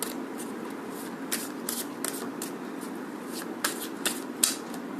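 Tarot cards are shuffled in repeated quick riffling bursts over a soft steady background, close to the listener, with no talking.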